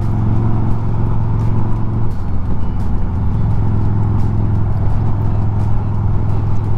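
A Harley-Davidson motorcycle cruises along a road through the New Jersey Palisades, its engine a steady loud low rumble with continuous wind and road noise close to the rider.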